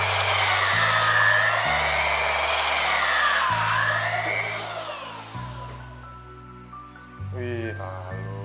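A Makita 9404 belt sander runs at its lowest speed over a workpiece, a steady close whine with shifting pitch that eases toward the end before a short louder burst; no speech is heard over it.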